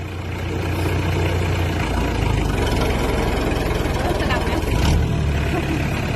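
An Iseki NT554 farm tractor engine runs on a test drive, a loud, steady low diesel rumble with a rhythmic throb that holds nearly constant, close to the listener.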